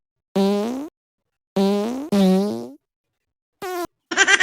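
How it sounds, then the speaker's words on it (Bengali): Four loud, close, buzzing farts sound in quick succession with gaps between, the last one ending in a sputtering, broken burst. "এটা হলো পাদের শব্দ।"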